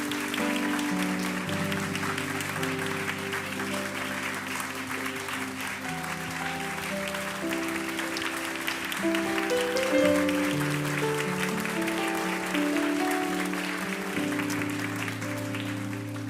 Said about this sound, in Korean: 우리 귀한 말씀 전해주신 목사님께 우리 감사와 더 존경의 박수를 보내드렸으면 좋겠습니다